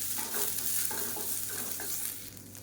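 Onions and garlic paste sauté in a pan for coconut chutney, a steady soft sizzle with repeated scraping stirs throughout, fairly close and with no talking.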